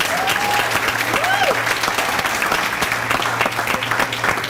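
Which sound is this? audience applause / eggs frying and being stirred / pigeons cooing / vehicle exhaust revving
audience applause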